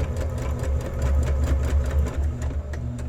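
A sewing machine stitches a quilt seam with a steady, close mechanical whir and rapid rhythmic needle chatter running throughout, alone without talk.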